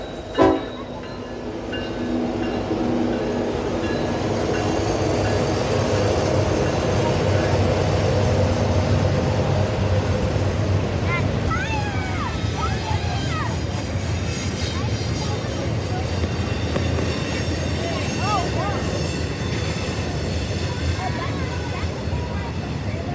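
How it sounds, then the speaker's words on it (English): A Norfolk Southern intermodal freight train led by an SD70ACE locomotive rumbles past close by at Horseshoe Curve, Altoona, Pennsylvania, loud and continuous, with a horn sounding and a faint voice under the roar. "The next train up was an NS intermodal with a nice SD70 ACE leading."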